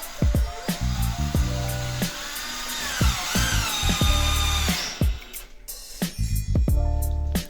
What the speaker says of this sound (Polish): No i skręcam śrubą, wkrętem raczej.